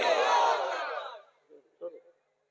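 A crowd at an outdoor Islamic sermon gathering for Eid-e-Milad-un-Nabi in Sonatigari village shouts a slogan in unison. One loud burst of many voices fades over about a second, followed by a few faint, brief voices.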